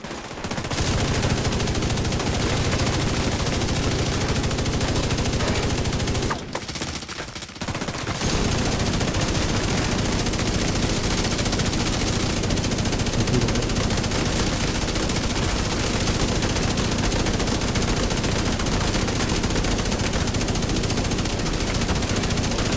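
Sustained light machine gun fire in The Division 2, a dense, loud continuous burst of rapid shots with one brief pause near the start, then relentless automatic fire with no voices.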